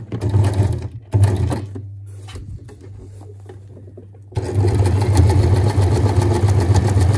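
A sewing machine stitches elastic and fabric for a skirt, running in loud, steady mechanical bursts with a brief pause and slower backstitch section before resuming at full speed, close up.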